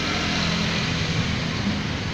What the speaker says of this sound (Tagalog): medyo maingay po kasi po dito po daan na po ng jeep po sa amin